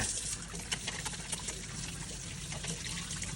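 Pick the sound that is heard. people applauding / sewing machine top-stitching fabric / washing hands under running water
washing hands under running water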